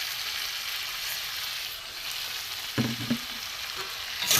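Jackfruit stir-fried with gobindobhog rice and potato in a pan gives a steady broadband sizzle, with a few clunking stirs of the spatula near the end, close and alone.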